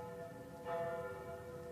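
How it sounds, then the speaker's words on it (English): Church bells ring with a sustained, humming tone, a fresh strike swelling briefly before the resonance lingers, heard from some distance. "Bells are ringing from every church in the city."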